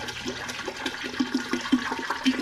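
Filtered water pours from a gallon holder into a container for strawberry lemonade, a continuous close splashing gurgle with irregular bubbly pulses throughout.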